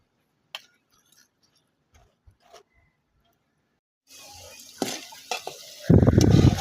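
Stirring and frying while cooking dal with coconut and fish in a Bangladeshi village kitchen: a quiet stretch of faint clinks gives way to a steady sizzle, then a louder, close burst of frying near the end.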